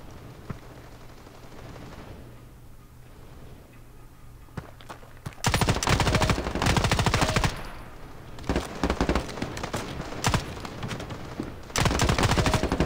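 Rapid automatic gunfire in the mobile shooter Standoff 2, quiet ambient game sound with scattered single shots at first, then loud sustained bursts of firing broken by brief pauses.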